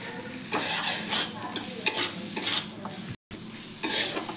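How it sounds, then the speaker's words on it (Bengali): Fried potatoes with ginger, cumin, garlic, chilli, onion, salt and turmeric are stir-fried in a pan, with repeated scraping strokes of a spatula over a soft sizzle, close, with a brief silent break. "আলুটা দিয়ে ভালো করে কষিয়ে নিয়েছি"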